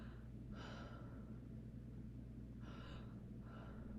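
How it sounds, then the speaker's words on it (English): A patient takes deep breaths through the mouth during a respiratory exam, faint breathy rushes of air heard up close as a few separate inhalations against a low hum. "All right, take a deep breath for me."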